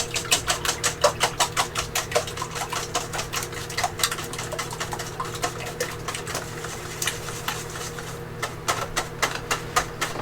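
Eggs being whisked for a breakfast quiche, a quick, regular run of close clicking taps against a bowl that goes on for about ten seconds over a low steady hum, with no talking.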